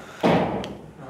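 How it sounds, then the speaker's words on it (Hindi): A door is pushed shut in a classroom during a physics lecture, making one dull, solid thud that fades into room tone. "दरवाजा बंद कर रहा"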